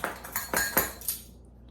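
A metal teaspoon clinks against a bowl or container while measuring baking soda for a freezer dessert recipe, about five light, bright taps in quick succession, close and alone.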